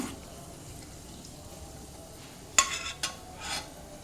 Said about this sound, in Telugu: ఇలాగ గోల్డ్ కలర్ వచ్చే వరకు వేయించి తీసుకోవాలి